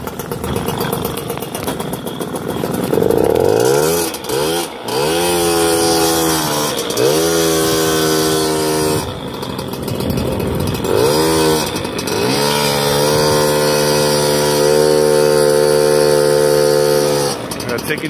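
A moped engine whines and revs up and down continuously, loud and close, with rising and falling pitch as the bike labors through dirt and mud.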